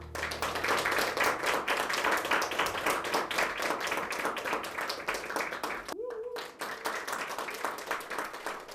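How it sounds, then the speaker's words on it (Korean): Audience at a free morning classical concert clapping to welcome the performers, dense steady applause from a seated crowd filling the space, with a brief dip before the clapping carries on. "반가운 박수로 연주자들을 맞이합니다"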